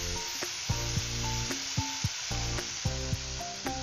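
Two tilapia fish drop into spice paste frying in a little oil and set off a loud, steady sizzle, with several soft knocks and scrapes of a utensil against the pan.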